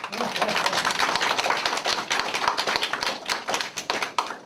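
Crowd at a local council candidate's campaign office opening claps loudly, with sharp, irregular hand claps that swell and then thin out toward the end, a voice briefly heard near the start.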